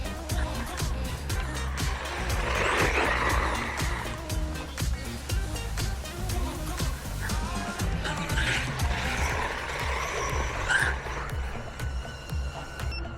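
An Arrma Mini Kraton RC car on 3S power runs over loose dirt at a skate park, its motor whine and skittering tires rising and falling steadily under faint, continuous background rumble.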